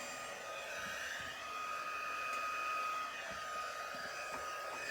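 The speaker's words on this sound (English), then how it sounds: "so let me get my heat gun going here." A heat gun for embossing powder blows with a steady, even whirring roar throughout, close and continuous with no talking.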